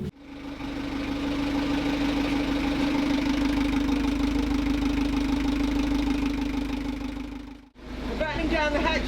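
A sailboat's diesel engine cranks, catches and settles into a loud, steady knocking idle nearby, then briefly cuts out before people start talking over the running engine.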